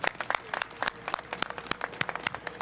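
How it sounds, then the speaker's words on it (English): Scattered, fairly faint applause from a small audience at an African Union flag raising ceremony, a sparse run of distinct handclaps lasting under three seconds. "let's give her a round of applause and thank her for all the great work she does for all of us."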